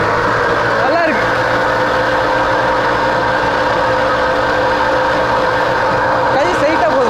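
A modified TVS XL moped built into a mini Harley-style bike runs steadily at close range, its small engine giving a constant loud hum and buzz with no break throughout.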